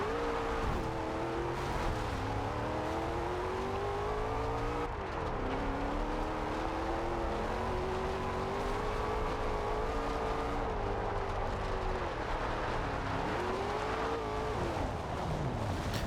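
A car in the racing game Forza Horizon 2 driving cross-country off-road, its engine droning steadily throughout with rising and falling revs and gear changes, close and continuous, with no talk.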